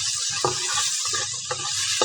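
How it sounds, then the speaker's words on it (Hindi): Chicken pieces sizzle in a hot pan for Chinese-style biryani, a constant bright hiss broken by a few sharp scraping stirs of a spatula, close and loud with no talk. "अब चिकन को हम अच्छे तरीके से इसके अंदर फ्राई कर लेंगे।"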